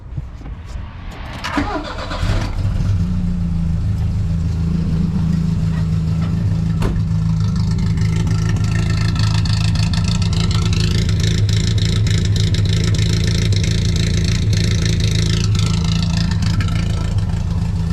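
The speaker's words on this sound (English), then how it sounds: "let me just start this thing up real quick for you guys so you can hear the lovely K-cam idle" A car engine with an aftermarket K-cam performance camshaft cranks and catches, then settles into a steady, lumpy, loping idle with an uneven rhythmic chop, loud and close.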